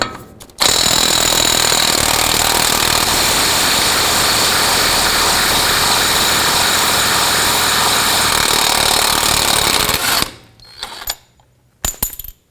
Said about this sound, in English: You can use a breaker bar as well if you want to do so, but a lot of times an impact is just easier